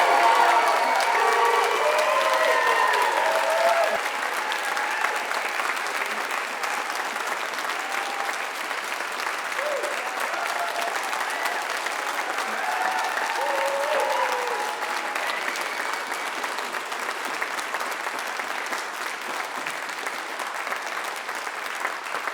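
An audience at a graduation ceremony applauds the graduates with sustained, dense clapping that stays loud and even across the whole stretch, with a faint murmur of crowd voices beneath it.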